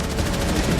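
Rapid gunfire from Rainbow Six Siege, a dense burst of shots packed into less than a second, loud and close with no talking.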